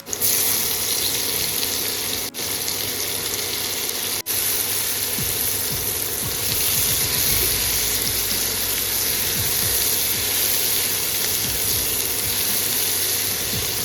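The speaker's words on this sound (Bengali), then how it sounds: "আলুটা হালকা ভাজা হয়ে গেছে এবার দিয়ে দেবো কেটে রাখা পেঁয়াজ" Potatoes and sliced onions sizzle steadily in a hot pan, a constant loud hiss of frying that carries on without pause for the whole stretch, with no talking.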